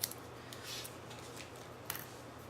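Scissors trimming a strip of washi tape in a quiet room: a handful of crisp, light snips, the clearest at the start and near the end, faint and close, with no talking.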